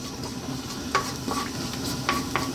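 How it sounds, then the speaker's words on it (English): Dried red chili and cumin seeds drop into hot sunflower oil and sizzle steadily, with a few close scrapes and stirring clinks from the pan standing out over the frying. "We're going to first drop in the dried red chili and the cumin seeds."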